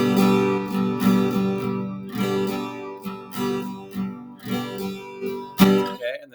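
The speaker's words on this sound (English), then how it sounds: "practice the down, down, up, down, up strumming pattern." An acoustic guitar is strummed in a down, down, up, down, up pattern, ringing chords with bright strokes in a loose repeating rhythm, close and clear with no voice over it.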